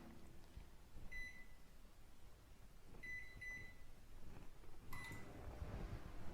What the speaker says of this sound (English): Now, I'm going to put this in the microwave for 1 minute.